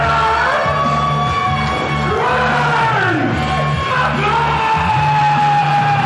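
Crowd at a Journey Pro wrestling show yelling, whooping and cheering on its feet after a match win, a loud, sustained roar of many voices with rising shouts layered over a thick, continuous wash of noise.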